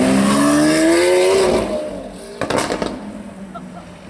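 A sports car engine revs up with a rising, strained whine for about a second and a half, then drops away, followed by a brief rumbling burst.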